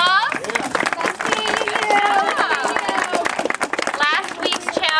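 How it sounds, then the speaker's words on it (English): A group claps in a sustained round of applause at a youth gathering, the clapping dense and steady for about five seconds, mixed with cheers and overlapping voices throughout. "Round of applause."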